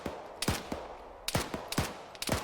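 Gunfire in the military video game Arma 3: a few sharp, separated shots with short echoing tails, moderately distant and fairly quiet, no talk over them.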